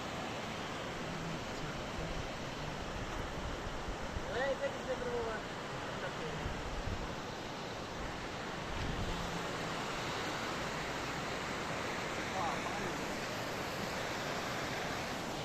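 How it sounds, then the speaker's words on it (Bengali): Teesta river water rushing beneath a small bridge, a broad steady roar of flowing water mixed with wind noise, with voices faintly present in the background. "নিচে তিস্তা পানি যাচ্ছে"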